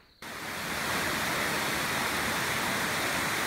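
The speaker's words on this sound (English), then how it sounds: "We made it to the waterfall." A waterfall at the Mystico hanging bridges near Arenal Volcano in Costa Rica rushes with a loud, steady broadband roar. It starts abruptly after a brief quiet moment, then holds constant.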